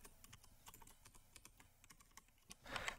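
Fingers tapping a computer keyboard in quick irregular bursts of clicks, faint and close, with a denser flurry at the end.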